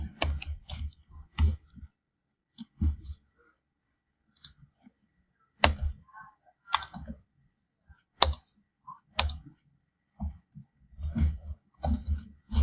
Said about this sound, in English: I'm using my arrow keys.